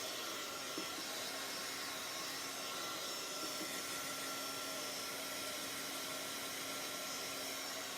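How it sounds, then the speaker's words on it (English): A heat embossing tool blows steadily on stamped paper with a constant, fan-like whoosh and faint whine, close and even for the whole stretch, with no talking. "I am going to take the heating tool and just hit it with the dryer"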